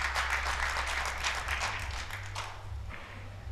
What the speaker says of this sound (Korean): 대회장을 가득 채우는 박수갈채 산체스 선수가 이끌어냈습니다.